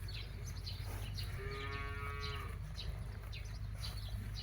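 A young calf on a farm moos once, a clear drawn-out call lasting about a second, over a steady low background hum, with no voices.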